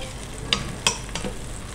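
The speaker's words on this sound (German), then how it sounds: "Dann gebe ich ein bisschen Butter in den Topf. Die Butter lasse ich ihn verlaufen." Butter melting in a pot gives a low steady sizzle, with a few sharp clicks and taps of a utensil over it.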